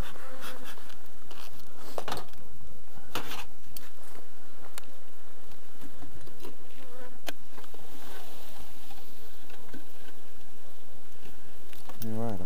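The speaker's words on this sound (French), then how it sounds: "Allez, on va regarder ce petit essaim" A steady, dense buzz of a small honeybee swarm fills the air, close and constant, with occasional clicks and handling noises.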